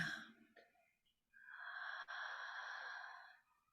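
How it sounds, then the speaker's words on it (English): One slow breath drawn in and let out through the mouth during a breathwork session: a short airy inhale, a brief pause, then a long, steady, soft exhale that fades out, heard close and quiet with no talking. "take a deep breath in through your mouth and out through your mouth"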